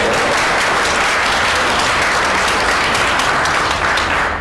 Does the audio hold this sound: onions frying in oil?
no